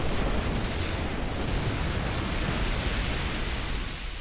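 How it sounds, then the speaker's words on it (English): Morgana fireworks in the video game Final Fantasy X-2 make a dense, continuous crackling roar with rumbling bursts, sustained and loud throughout. "All it took was some Morgana fireworks."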